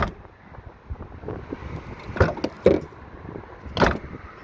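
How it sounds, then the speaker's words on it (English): An MG ZS EV's boot is shut outdoors in wind, landing as a couple of sharp close clunks amid quieter rattles and knocks. "You sort of get this ka-kunk when you close the boot"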